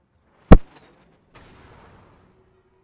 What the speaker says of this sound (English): More frequent airstrikes.